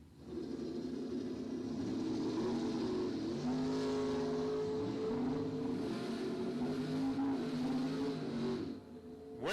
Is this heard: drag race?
yes